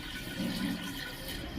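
Water poured into a pot of fried moong dal with spices, a steady gushing stream that runs continuously, close and moderately loud.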